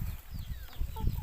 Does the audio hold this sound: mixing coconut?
no